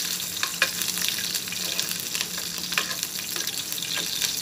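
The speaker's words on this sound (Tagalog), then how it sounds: "lagay na natin yung garlic. I'm cooking your ginisa guys." Garlic sautés in hot oil for a Filipino ginisa, making a continuous crackling sizzle close by, with occasional stirring scrapes and no voices.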